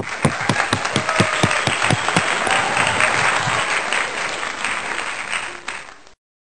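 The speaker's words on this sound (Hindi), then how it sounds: "तालियां।" A live audience at a Christian gathering applauds a co-host; a few crisp, distinct claps open into dense, steady clapping that holds for about six seconds, then stops abruptly.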